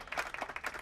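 Students in a classroom clap briefly, a few quick, fairly faint claps in under a second with no talking.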